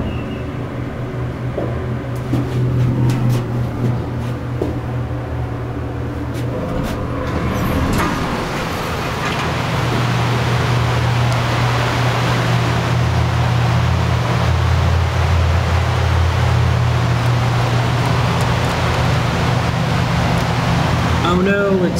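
Southeastern/Dover hydraulic elevator in a hospital running between floors: a steady low motor hum and whine with rattles and a swelling rumble as the car moves, recorded from inside the cab.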